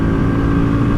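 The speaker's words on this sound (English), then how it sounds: "keep listening to the engine. First gear touches 50 kilometers per hour." A 2021 Royal Enfield Classic 350 single-cylinder motorcycle accelerates hard in first gear on a highway, a loud, steady engine drone close to the microphone with no talk.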